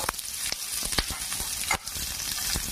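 Onions sizzle and fry in oil on a hot tawa, a dense close crackle with a few sharp pops and stirring scrapes, and no talk.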